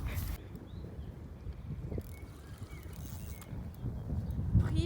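Wind gusts roar low and steady across the microphone at a carp fishing spot by the water, a constant rumbling buffet with a few faint knocks and rustles, and no clear talk.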